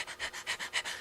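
A man imitates a dog struggling to breathe, producing six quick rhythmic panting gasps, close and fairly faint, with no other talk.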